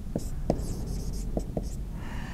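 A marker or pen scratches out an equation by hand on a board, with several short, crisp strokes in an uneven rhythm over a low background hum, close and clear.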